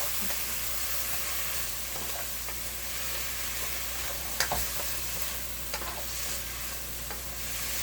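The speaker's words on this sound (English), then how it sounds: "This is the juice from the meat, guys. Let's just mix it." Meat sizzles in its own juice in a pan while being mixed for pancit bihon, a constant close hiss with a few sharp scrapes of the utensil, no voices.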